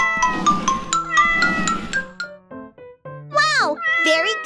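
A cat meows several times in a row, close and clear, with drawn-out, rising and falling cries that fill the quiet room.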